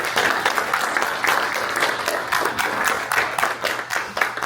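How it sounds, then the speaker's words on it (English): A room of attendees at a congressional candidate forum applauds together, dense continuous clapping with rippling peaks, close and fairly loud throughout. "Let's give them all a round of applause."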